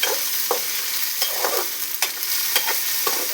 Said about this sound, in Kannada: ಇದೇ ಥರ ಇದನ್ನು ಸರಿಯಾಗಿ ರೋಸ್ಟ್ ಮಾಡಿ